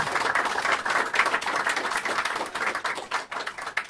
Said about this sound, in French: Applaudissez Nadia Delal, s'il vous plaît